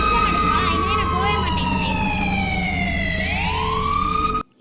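Emergency vehicle siren in the Roblox video game, a loud wailing tone that sweeps up and down steadily for several seconds, close and continuous, then cutting off abruptly at the end.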